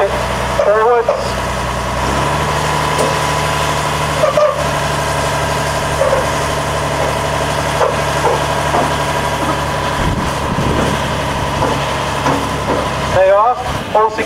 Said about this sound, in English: The vehicle goes under the flat rack. Then it starts to tip it forwards.